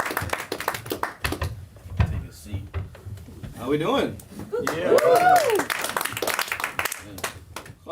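An audience claps as a comedian comes to the stage, with scattered claps loudest early and fading as he starts talking over them.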